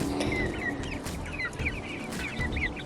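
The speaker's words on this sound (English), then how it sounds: "You checking out the chickens?" Backyard chickens cluck and chatter nearby in a steady, repeated series of short calls over faint background noise.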